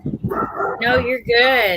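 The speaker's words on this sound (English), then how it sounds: "We're sorry if y'all hear the dogs." Dogs bark and yip loudly and close indoors in a few quick bursts, with people talking over them.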